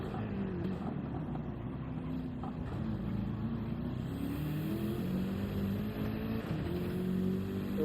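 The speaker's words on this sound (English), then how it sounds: "An early upshift to 3rd gear to prevent that tail happy rear to spin." A BMW GT race car at the 24 Hours of Spa pulls hard out of La Source, its engine note climbing in steady sustained drive through an early short shift to third gear, loud and close with no talk.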